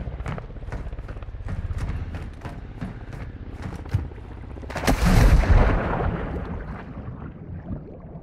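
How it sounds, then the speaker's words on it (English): Gunfire in Call of Duty: Modern Warfare II, with rapid repeated shots through the opening seconds and then a loud burst of heavy firing and impacts, under a radio voice. "You are taking effective fire."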